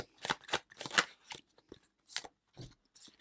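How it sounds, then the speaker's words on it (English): Tarot cards are shuffled by hand in quiet, close bursts of riffling and slapping, several short bouts separated by brief pauses. "And let's get to shuffling."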